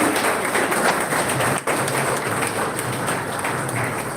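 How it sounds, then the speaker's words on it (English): An audience applauds at a college Kerry Day souvenir launch, sustained mid-level clapping with a brief thud partway through. "Big round of applause"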